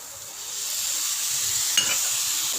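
Spiced chicken filling with soy sauce being stirred in a frying pan, a steady sizzling hiss throughout with one brief utensil scrape near the end.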